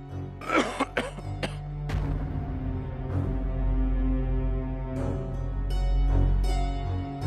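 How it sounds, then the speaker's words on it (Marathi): A quick burst of harsh coughs up close, followed by hoarse, strained rasping from the throat. "तुमचाच खोकला बळावतो अशाने."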